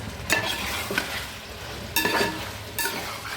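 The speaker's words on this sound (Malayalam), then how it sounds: "ഏറെക്കുറെ നമ്മുടെ ചിക്കൻ ഇവിടെ വഴന്ന് വന്നിട്ടുണ്ട്" Chicken sautés in a pan for Kerala chicken curry, with a soft constant sizzle and a few distinct scraping stirs of a spoon through the pieces.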